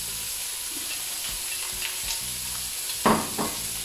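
Onion frying in a pan with pork, mushrooms and liver, a steady broad sizzle with a few louder scraping stirs near the end, no voices.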